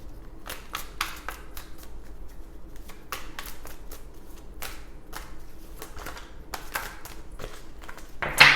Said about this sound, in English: these are the cards that fall out of the deck as I'm shuffling